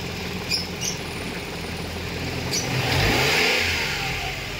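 A Mitsubishi Mirage engine, close by, climbs from a steady idle into a smooth rev, holding the higher pitch near the end, with faint clicks and knocks early on.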